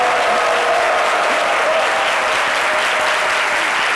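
A crowd claps steadily and loudly throughout, a dense, continuous wash of applause with no talking.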